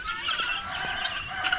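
Guinea fowl on a farm give a few scratchy, honking calls over a faint outdoor background, moderately distant and brief.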